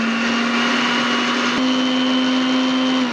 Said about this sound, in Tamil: இப்போ அதை நான் அப்படியே போட்டு அரைச்சி எடுத்துக்க போகிறேன்.